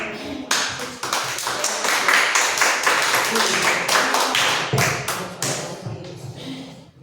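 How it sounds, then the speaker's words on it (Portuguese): A church congregation standing to welcome the pastor, clapping steadily and rhythmically together through the whole stretch, loud and close, with voices talking and calling out under the claps. "vamos receber o pastor e aplaudindo a Jesus"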